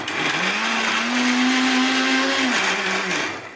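An electric blender grinds ginger and garlic into paste with a loud, steady motor whine that dips slightly in pitch near the end as the load shifts. It runs alone.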